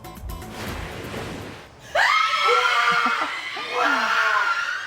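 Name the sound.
family screaming with joy at bar exam result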